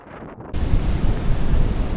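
Strong wind on the Atlantic coast of Morocco buffets the microphone in a loud, steady roar after a brief quieter start, with a low rumble throughout.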